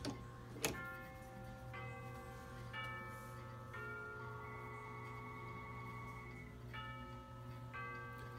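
A Kieninger KSU 78 grandfather clock movement with triple chime ticks steadily and close up, with sustained ringing chime tones sounding over the ticks throughout and an initial sharp strike.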